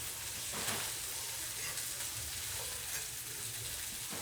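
Smoked sausage with peppers and onions frying together in a pan, a constant close sizzle with soft stirring movements underneath, no voices.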